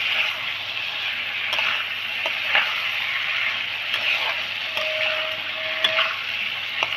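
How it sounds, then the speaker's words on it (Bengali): Pointed gourd sautéing in spiced oil with tomato for a prawn curry, a steady soft sizzle with light stirring scrapes and a few small clicks, close and continuous. "এবার পটলটা দিয়ে কষিয়ে নেব"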